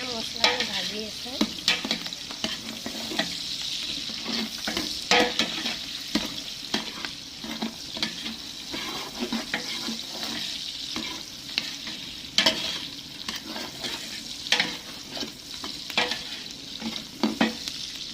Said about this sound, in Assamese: এতিয়া মই খিচিৰিৰ কাৰণে মছলাটো ভাজি আছোঁ।